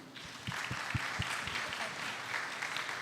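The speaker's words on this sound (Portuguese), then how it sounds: "Uma salva de palmas para a Lu." Audience applause at a Portuguese-language talk event, a dense, steady wash of many hands clapping at close range, with a few louder individual claps standing out early on and continuing evenly to the end.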